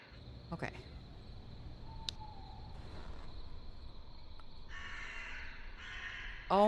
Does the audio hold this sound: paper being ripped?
no